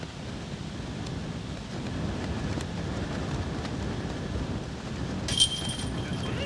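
Steady wind buffets the microphone on an uphill disc golf course at a tournament, a continuous low rumble and hiss with a brief gust near the end.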